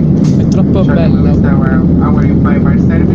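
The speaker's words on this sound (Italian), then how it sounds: "Siamo sull'aereo verso Napoli." Steady broadband airliner cabin roar on a flight to Naples, continuous and loud throughout, with people talking over it.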